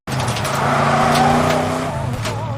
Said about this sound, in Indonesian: memperlihatkan dua mobil yang melaju kencang di jalanan